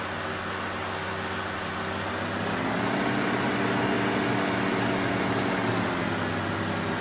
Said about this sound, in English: Let's hear the engine sounds.